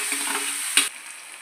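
Spices and curry leaves temper in hot oil with a close, hissing sizzle, punctuated by a single sharp clink before the frying sound drops to a quieter crackle.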